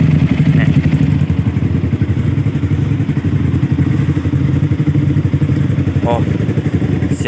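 A 2017 Yamaha R15 motorcycle fitted with a 14-inch Akrapovic M-slaz exhaust idles with a loud, steady, throaty burble close by, an unbroken rumble throughout.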